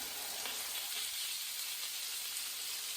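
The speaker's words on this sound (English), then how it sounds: "And you can hear that kind of sizzling over there." Rice in a paella-style skillet sizzles with a steady, soft hiss of frying, heard alone and fairly quiet throughout.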